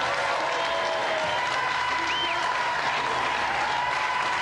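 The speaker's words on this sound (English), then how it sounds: "Round of applause for them anyway." Studio audience applause on a TV game show, dense steady clapping that holds at an even level throughout, with a faint whistle partway through.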